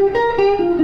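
A short synthesized lead line picks out a minor pentatonic melody over major chords, a few sustained notes with slight distortion, close and alone.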